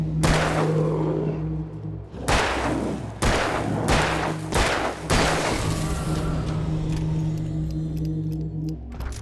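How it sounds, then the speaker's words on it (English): Gunfire in the video game Alan Wake: several sharp, loud booming shots at irregular intervals over a steady low drone and game ambience, with no talking. "Here, take the gun. Now you'll die."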